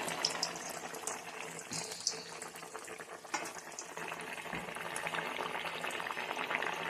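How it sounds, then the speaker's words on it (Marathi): Sabudana vada deep-fries in hot oil with a soft, steady bubbling sizzle at low level, continuous and even, with a few faint pops and no talking. "एक मिनिट अर्धा मिनटं आपण छान तेलामध्ये साबुदाणा तळून घ्यायचा"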